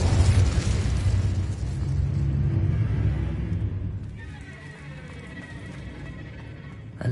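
An Incendio fire spell in Hogwarts Legacy erupts as a loud, roaring whoosh at the start, then fades into a quieter crackling rumble with a brief flare at the end.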